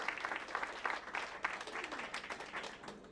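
Audience applause at the Bluebird Cafe in Nashville, a steady wash of many hands clapping at close range for about three seconds.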